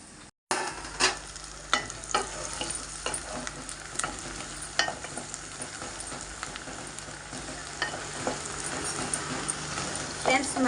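Curry ingredients for a chicken and raw mango curry fry in a pan with a steady, close sizzle, punctuated by sharp clicks of a spoon scraping and stirring throughout.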